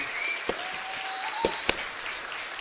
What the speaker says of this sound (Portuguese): Salva de palmas para esse pessoal, merece.